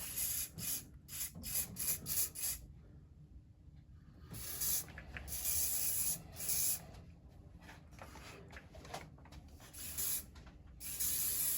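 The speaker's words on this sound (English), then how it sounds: "And now spraying is the next step of texturizing" Hairspray hisses from an aerosol can onto a teased wig in repeated short bursts, close and fairly quiet, with brief pauses and small handling rustles between sprays.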